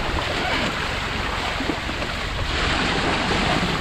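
Ocean swells and steady wind rush around a sailboat heading across the wind, a broad continuous wash of surf and wind noise at constant loudness with no talking.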